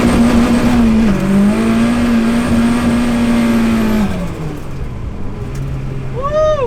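A Nissan S13 drifting through a fast, blind corner at night holds a loud, steady engine drone for about four seconds, then the revs drop away as the tires squeal near the end.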